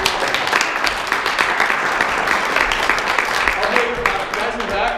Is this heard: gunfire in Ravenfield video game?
no